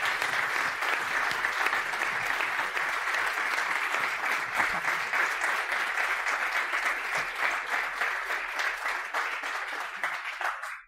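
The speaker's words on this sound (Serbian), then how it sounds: "evo ja ću ovako da zamolim najprije jedan veliki aplauz" An audience at a business event applauds loudly and continuously for about ten seconds, a dense wash of many hands clapping that fades out quickly at the end.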